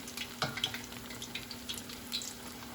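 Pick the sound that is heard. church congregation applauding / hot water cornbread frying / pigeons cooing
hot water cornbread frying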